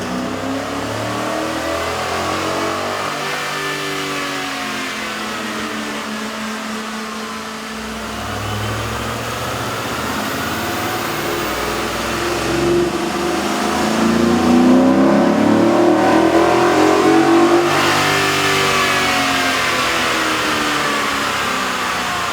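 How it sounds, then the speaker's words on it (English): Ford F150 pickup with a 3.5L V6 and aftermarket air intake revving on a dyno, engine note swelling and falling in long sustained pulls, growing louder and more aggressive toward the end, heard up close without voices. "we ran the pickup truck on the dyno to test the sound comparison versus the stock intake"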